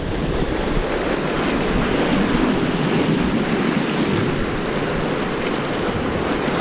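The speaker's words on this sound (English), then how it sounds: "strong winds. We've also got swell come in as well, so it's really stirred things up." Strong wind buffets the microphone over continuous roaring surf and churning sea swell at a UK shoreline, loud and steady with no pauses.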